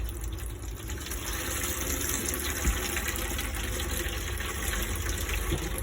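Water runs steadily from a tap into the sink of a Trigano Tribute motorhome, a constant rushing gush that continues without pause and with no voices.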